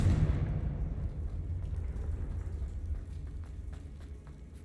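A Confringo explosive spell blast in Hogwarts Legacy, heard as a deep rumbling explosion already underway that slowly fades, with a few faint clicks in the tail and no speech.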